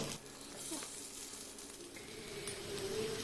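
Pathrode pieces laid on a tawa in hot coconut oil give a steady, fine sizzle with soft crackles throughout, close and fairly quiet.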